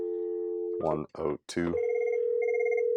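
A Merlin landline telephone connected through a VoIP line dials out and rings: a steady tone, then short bursts of dial tones, then a continuous ringback tone held at moderate level, with a brief spoken word partway through.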